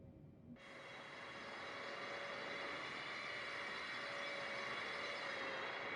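The jet engines of a UPS Boeing 747 cargo plane in a flight simulator game roar in a steady, continuous whine. After a brief quieter start the sound swells and holds loud throughout, with no talk.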